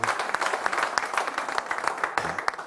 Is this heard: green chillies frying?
no